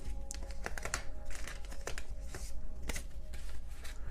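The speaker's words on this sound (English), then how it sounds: "let me clear the board because I used a lot of cards for you" Tarot cards are gathered up from a board, making soft repeated shuffling, sliding and crinkling sounds in quick irregular bursts, close and faint, with no talk.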